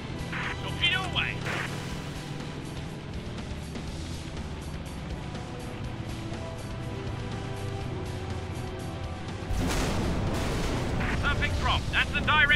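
A torpedo hits its target in a biplane video game, a heavy explosion bursting in about two-thirds of the way through, over constant engine drone and game effects.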